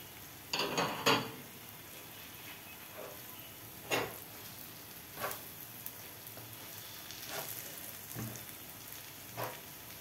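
A spiced potato filling for hawawshi is stirred in a pan with a spoon, giving scattered scraping clinks at irregular intervals over a soft, steady sizzle, with no talking.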